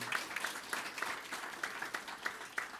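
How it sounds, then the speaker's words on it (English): Faint audience clapping at a social work gathering in New Zealand comes as a thin, scattered patter of separate claps in an uneven rhythm, distant and quiet. "Yeah, clap for Sean."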